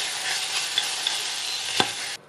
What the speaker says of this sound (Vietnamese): Và chỉ cần xào nhanh như vậy thôi thì cải nó giòn ngon.